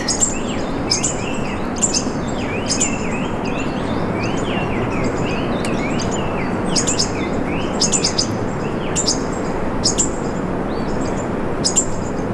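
Birds chirp repeatedly in short, sharp bursts over a steady background hiss at Machu Picchu, several calls overlapping at close range with no talking.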